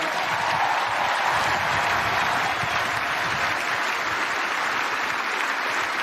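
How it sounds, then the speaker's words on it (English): Dense, steady applause from a large stadium crowd at a baseball retirement ceremony in St. Louis, sustained clapping filling the space evenly with no break and no voices standing out. "Let's give Adam a round of applause."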